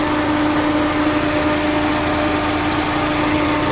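A Peugeot 206 manual idles with the air conditioning on and the radiator fan running at high and low speed, a steady close engine drone with a constant tonal hum and no talk.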